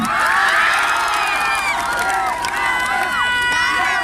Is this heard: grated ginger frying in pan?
no